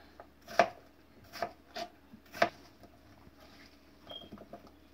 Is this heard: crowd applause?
no